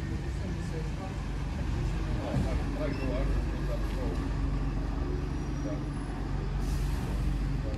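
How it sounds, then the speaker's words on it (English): A bus pulling past at a town bus station, a loud continuous engine rumble with road noise and a brief hiss of air brakes, while people talk nearby. "This is the bus I got off going past us now."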